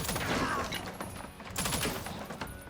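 Repeated gunfire bursts in the tactical game Jagged Alliance 3, a steady run of rapid shots over about three seconds, fairly loud and continuous with a brief lull midway.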